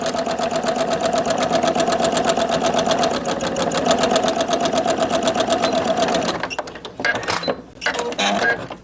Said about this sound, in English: we've just stitched the crown pieces together, the lining and the main